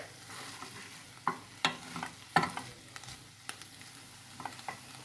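Okra being stirred as it fries in a pan for chickpea okra, a steady sizzle broken by a few sharp scraping clicks from the stirring spoon, close and fairly quiet with no talk.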